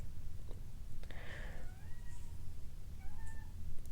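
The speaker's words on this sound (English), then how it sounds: "Sorry if you can hear that, my cat is meowing." A cat meows softly a couple of times, faint and somewhat distant over a low background rumble.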